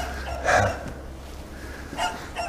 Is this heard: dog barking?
yes